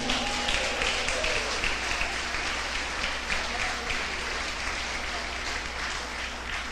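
A church congregation applauds during a sermon, a dense wash of clapping that holds steady and fairly loud from start to finish with no voices standing out.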